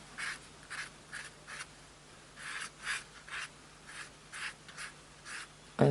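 A dark indigo colour pencil scratches across paper in short, rhythmic back-and-forth strokes, close and quiet, with brief pauses between bursts.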